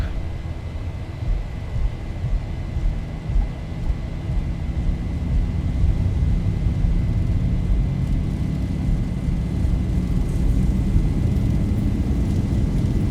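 Boeing 737 jet engines spool up to takeoff thrust in X-Plane 11, a steady, loud broadband roar with a faint high whine that swells slightly and then holds continuous throughout.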